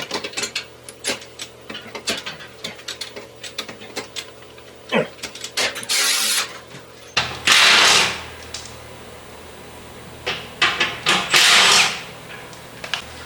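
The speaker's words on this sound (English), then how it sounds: "having a 3/8 electric ratchet here with a 14 swivel is going to make it a little bit easier" A 3/8-inch electric ratchet with a 14 swivel socket drives out stiff bumper bolts on a 2019 Toyota 4Runner. It gives several short, loud buzzing bursts, set between quieter clicks and clinks of tools.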